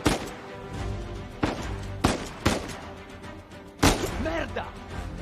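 Sporadic gunshots from Uncharted 4: A Thief's End, sharp loud cracks spaced a second or so apart over a steady game ambience, with a voice calling out briefly near the end.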